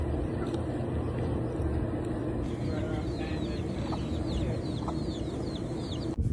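Chickens and their chicks in Maui, Hawaii, clucking and chirping in scattered bursts over a constant outdoor hum, with thin high peeps dotting the middle stretch and a sharp click near the end.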